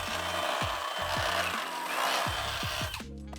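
A power drill with a 1/2 inch bit whines steadily as it enlarges a hole in metal, with short rising pitch sweeps as it bites, then winds down just before the end.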